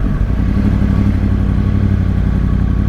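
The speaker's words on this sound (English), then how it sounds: "if you actually listen to her, you can almost hear the offset cylinders, or offset crank, as you can hear it firing" A 2013 Yamaha R1 engine with offset crank firing runs close and loud, its uneven, twin-like pulsing throb steady throughout with a mechanical clatter over the low rumble.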